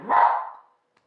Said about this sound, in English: sorry my dogs keep interrupting me.